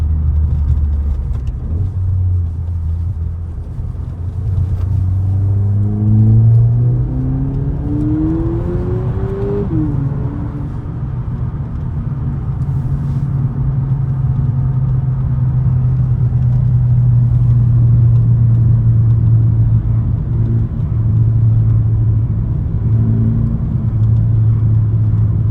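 A Volkswagen Polo 6 GTI revs up and down, its engine note climbing sharply in a couple of loud sweeps before settling into a rough, droning idle, heard up close with no talking.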